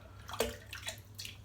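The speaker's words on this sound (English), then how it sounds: "I'm just going to dip it in the water." A shaving brush dips into water with a few soft splashes and drips, close and quiet, spaced out over a faint background hum.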